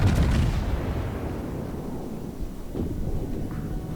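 Warship guns firing in World of Warships: a heavy booming salvo at the start rolls off into a long low rumble, followed by fainter distant thuds.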